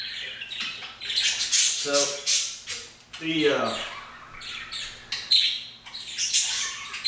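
Birds squawk loudly and repeatedly in harsh, ragged bursts with some chirps mixed in, close by and filling the whole stretch. A voice briefly speaks under them.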